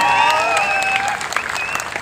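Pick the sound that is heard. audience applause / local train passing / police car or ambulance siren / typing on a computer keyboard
audience applause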